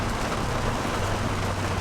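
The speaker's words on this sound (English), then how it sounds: "Rain is good. I like rain." Steady rain falls outside, heard as a loud, even wash of patter with no break and no voices.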